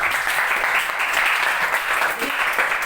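Students in a classroom clap for a classmate in a brief, continuous round of applause, a close, even patter sustained throughout.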